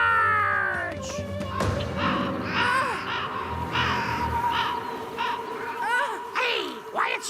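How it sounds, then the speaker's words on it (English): Cartoon crows cawing in animated scenes, a series of harsh rising and falling calls over a busy music and effects bed, with characters talking. "Convince that horrible crow and his noisy friends to move far away from my nest."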